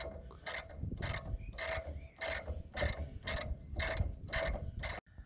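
Ratchet wrench loosening the top bolt of a front suspension link on a Ford Econoline E350 van, a rapid clicking ratchet in about nine regular bursts, close and clear with brief pauses between strokes.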